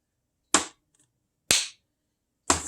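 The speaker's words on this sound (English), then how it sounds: "I'm clapping up here, I'm touching the table, clapping up here." Three sharp, separate hand claps and taps on a table in a repeating pattern, each a crisp, close smack with short gaps of silence between them.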